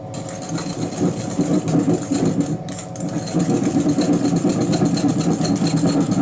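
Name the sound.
whisking cake mixture until light and fluffy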